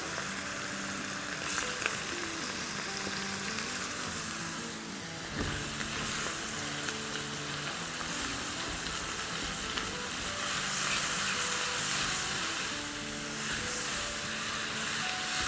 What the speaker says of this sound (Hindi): बस दही के साथ 30-40 सेकंड फ्राई करेंगे जब तक कि दही डिसअपियर ना हो जाए